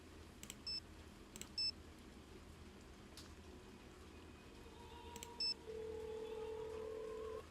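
Someone dials a telephone to place calls: a few short, quiet keypad beeps spaced apart, then a steady ringing tone, all faint against low background hum.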